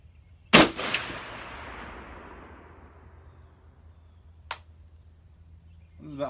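A single sharp rifle shot from a Knight's Armament SR-25 fired at a target dummy, with a long fading echo, a faint metallic ping about four seconds later and a soft rustle at the end.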